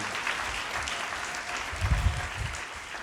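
A church congregation applauding, a steady wash of clapping with a brief louder swell near the end.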